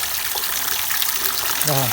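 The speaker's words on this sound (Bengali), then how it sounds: "এখন সরকারি টপে পানি দিচ্ছে" Water pours from a public government tap in a steady broadband rush, close and continuous, with a voice briefly rising over it at the end.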